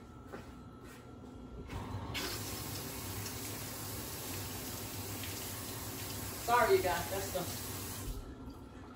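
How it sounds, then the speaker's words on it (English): Steady hiss of tap water running, starting after a couple of seconds and stopping near the end, with a brief spoken apology midway. "that is the water running."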